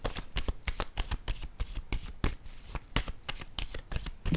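A deck of cards being shuffled and laid down close by, a quick series of crisp riffling bursts and soft slaps in a steady rhythm, with no talking.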